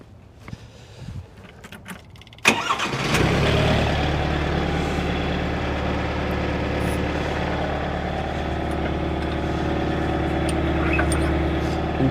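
A diesel engine on an LS MT242H compact tractor with a backhoe attached cranks and catches, then settles into a loud, steady idle that runs close to the mic for the rest of the clip.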